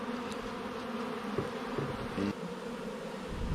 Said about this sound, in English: Again, good population of bees.